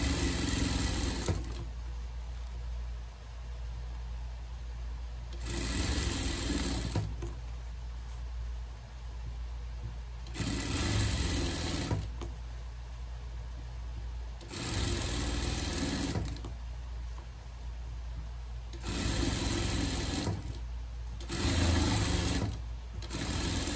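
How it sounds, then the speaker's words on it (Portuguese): A sewing machine topstitches the lining of a pet dress in repeated bursts of steady mechanical whirring, each run lasting a few seconds and separated by short pauses, heard close and alone. "Pegado o forro aqui, vamos rebater aqui, passar um presponto aqui."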